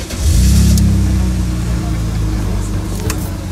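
A newly bought car's engine revving nearby: a loud, deep surge that swells quickly, holds a steady throaty drone, then eases slightly while still running.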